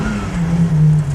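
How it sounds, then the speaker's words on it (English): A Mini rally car's engine drones loudly and steadily up close on a loose gravel stage in a 1990 Telford rally, its pitch sliding slightly as it pulls around. "With the limited slip diff pulling the Mini around on the loose,"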